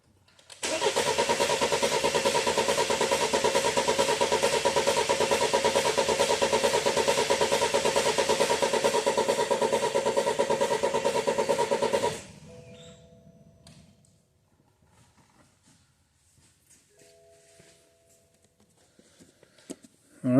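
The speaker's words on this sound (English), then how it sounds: "Let's crank it over, see if we can find a fault." A 2013 BMW 528 with the N20 engine and a misfire cranks over for about twelve seconds in a loud, even, rhythmic churn, then stops abruptly, leaving near silence with faint clicks and short beeps.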